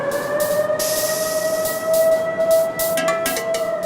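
A loud, steady warning siren in a steel mill wails continuously with a sustained tone over a broad industrial rumble, pulsing slightly in intensity.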